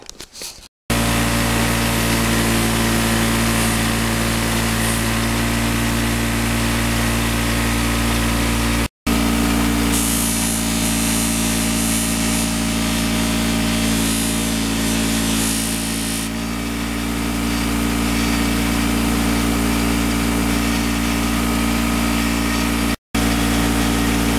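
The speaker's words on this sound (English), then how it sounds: "now I'm going to run this over on a buffing wheel, just see if it cleans up" Honda NS250R motorcycle seat part run over a buffing wheel gives a loud, steady motor drone with a bright, constant grinding hiss, briefly cut out a couple of times and dipping as the part is pressed harder.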